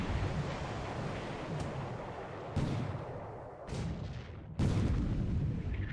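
Naval gunfire striking a ship in the War in the Pacific game: a heavy rumbling barrage with several deep booming impacts, the last one sudden and loud, over a continuous roar.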